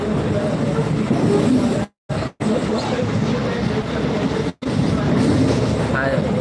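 A passenger train headed from Bardhaman toward Malda rumbles steadily as heard from inside a carriage. The loud, continuous roar cuts out in a couple of brief drops, and faint voices murmur underneath.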